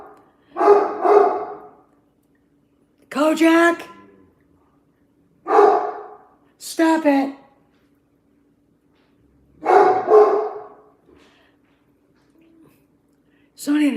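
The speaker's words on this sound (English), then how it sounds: "So, what are you barking at?" A shepherd dog barks loudly in short bursts, alternating with a person shouting at it, with silent gaps between each exchange.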